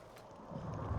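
A horse in the Skyrim VR video game, its hooves clip-clopping softly at first and then growing steadier and a little louder, with no clear whinny.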